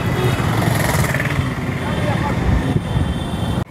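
Heavy traffic on busy Rewa Road in India at Bhagwanpur bridge, with a dense steady rumble of engines and motorbikes, horns and passing vehicles filling the scene while a person talks over it.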